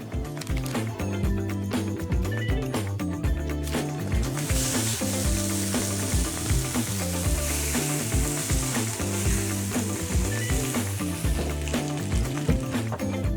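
Ibérico pork ribs sizzle and fry in a pan with a steady, close crackle that grows brighter partway through, under a loud, continuous rhythmic music bed.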